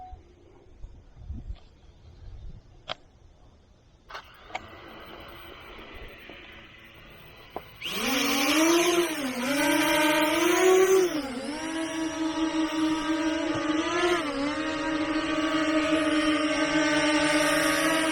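A JJRC X9 Heron drone takes off after a few quiet knocks and handling sounds, then flies under trees with a loud, close, high motor whine whose pitch rises and dips as it manoeuvres, continuing steadily to the end.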